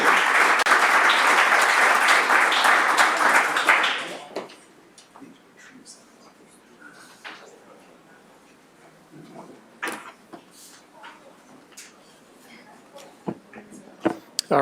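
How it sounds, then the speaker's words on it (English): Loud audience applause at a conference session ends abruptly after about four seconds, followed by quiet room noise with scattered clicks and thumps. "Round of applause for them again."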